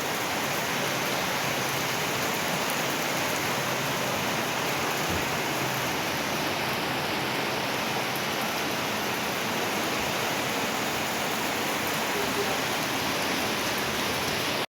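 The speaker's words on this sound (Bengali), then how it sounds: "কালকের মতো ঝমঝমিয়ে বৃষ্টি নেমেছে।" Heavy rain pouring down outdoors, a dense continuous roaring hiss of drops that stays loud and unbroken throughout.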